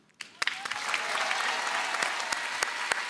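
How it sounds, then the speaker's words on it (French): Audience applause at an emotional evening stage performance after a song, rising quickly and holding steady as a full round of clapping from a crowd. "Applaudissements pour Sohan, s'il vous plaît."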